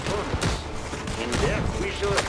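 Gunfire in Red Dead Redemption 2: a few sharp shots crack over steady in-game background noise, with voices speaking in between.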